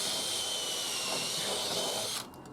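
A power drill pre-drilling holes near the end of a timber roof piece whirs steadily at high speed for about two seconds, then cuts off abruptly, leaving a low hum.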